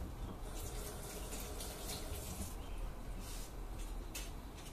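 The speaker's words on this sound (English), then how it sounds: "so you want to rinse the celery" Tap water runs in a steady, faint gush while celery is rinsed in a basement kitchen, with no one speaking.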